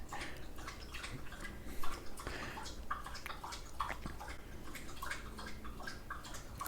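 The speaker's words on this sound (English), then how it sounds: "My dog's drinking water." A dog laps water from a bowl nearby in a quiet room, a soft, rapid run of wet clicking laps repeating steadily and faintly.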